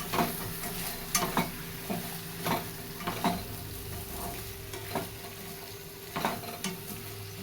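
Chopped onion frying in hot oil with eggplant curry in a pan, a soft steady sizzle broken by repeated scraping stirs of a spoon against the pan, close and fairly quiet, no talking.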